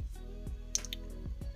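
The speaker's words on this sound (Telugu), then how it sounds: "కొద్దిగా నేను హాట్ వాటర్ అయితే వేసి మిక్స్ చేస్తున్నాను" Hot water is poured into ragi flour, with drumstick leaves added, and the dough is mixed by hand, giving close, soft wet squishing and a few small drips in a quiet kitchen.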